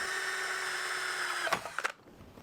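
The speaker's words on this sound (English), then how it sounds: "So I'm just drilling out brand new nice switch panel" Power drill whirs steadily as it bores a hole through a new switch panel in a van, then cuts off with a couple of short bursts and stops, fairly quiet and close.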